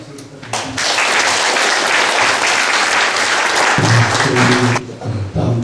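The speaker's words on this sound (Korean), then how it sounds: "김 목사님께 환영의 박수를 부탁드립니다" Welcoming applause from a forum audience at a lecture on North Korean invasion tunnels, a dense sustained clapping that swells after a quiet start, holds loud and steady, then thins toward the end.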